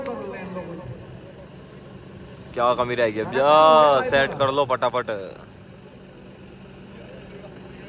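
Tractors idle and rumble steadily at a rural tractor pulling contest, a low continuous engine drone beneath an announcer's loud amplified voice urging teams to get set.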